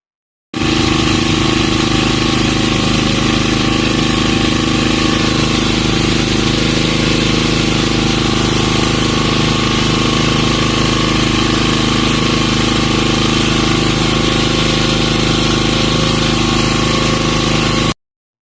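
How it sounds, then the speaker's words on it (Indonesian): A generator engine runs continuously and loudly with a steady droning rumble, unchanging from start to finish with no other sounds. "ini hasil dari audio suara genset diubah ke sinyalnya."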